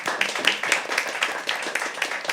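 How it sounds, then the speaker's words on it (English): A small group at a live poetry open mic claps in quick, uneven bursts, a short spell of applause with no voices. "huge round of applause for singing"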